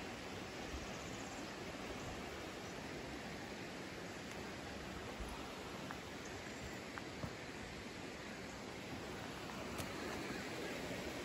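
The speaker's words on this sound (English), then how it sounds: "That's the creek that normally is only about that size. It's all the way up here, y'all. And it is overflowing onto the road." A flooded creek swollen far above its usual size in the Appalachian Mountains during a flash flood, overflowing onto a road; a steady, dense roar of rushing water, loud and unbroken, with no talk.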